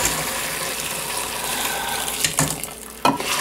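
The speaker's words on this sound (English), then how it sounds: "I'm going to just pour it through and just strain out" Pho broth pouring through a fine mesh strainer at a kitchen sink, a steady broadband splashing rush of liquid with a couple of sharper clanks or knocks near the end, fairly close, no talk.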